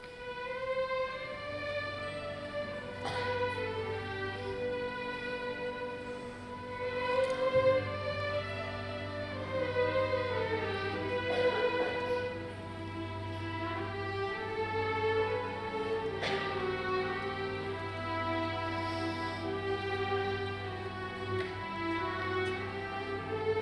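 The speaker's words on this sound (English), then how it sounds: "So the theme of this movement is played by the violins" Violins, first and second sections together, play the lyrical love theme from Rimsky-Korsakov's Scheherazade. The melody is sustained and singing over low held string notes, steady and full for the whole stretch, with no voices.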